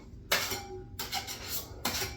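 Putty knife scraping and clinking against a drywall surface as ready-mix joint compound is laid over screws, three distinct bursts of close scraping with short pauses between.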